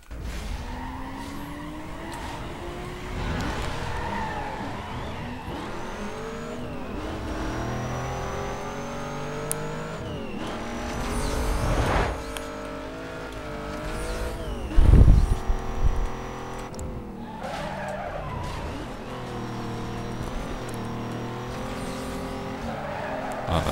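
Race cars in Need for Speed Most Wanted (2005) roar and skid through a sprint race, with engines revving up and down, tires squealing on turns and a loud thump partway through, all loud and continuous.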